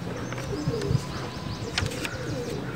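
Old-breed pigeons coo softly in low, repeated murmurs, with a few sharper bird chirps and flutters nearby.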